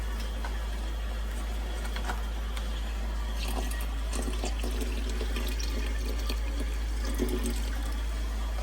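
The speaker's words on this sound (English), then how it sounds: "I'll just put the chicken broth." Chicken broth poured into a Tokit Omni Cook C2 while making a soup, a steady liquid splashing and trickling that runs continuously at moderate level, with no talking.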